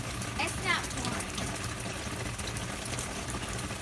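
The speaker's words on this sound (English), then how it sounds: "it's raining out" Rain pours steadily outdoors, a dense, even hiss of water that holds at the same level for the whole stretch, with faint murmuring in the background.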